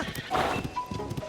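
Horse hooves clip-clop in Zelda: Tears of the Kingdom with a short whinny, the steps near and rhythmic, over game ambience and some background voice.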